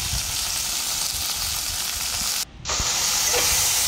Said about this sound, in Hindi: इसको थोड़ा सा हल्का सा फ्राई करेंगे, पहले थोड़ा नमक, उसके बाद थोड़ा हल्दी देके थोड़ा सा फ्राई करेंगे।